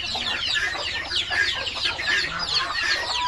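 Several chickens cluck and chatter nearby in a busy, overlapping stream, with soft farmyard noise underneath and no voices.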